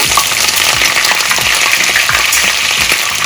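Fenugreek seeds and curry leaves sizzle loudly in hot oil for garlic kuzhambu, a close, constant crackling hiss with small popping bursts scattered throughout, no voices.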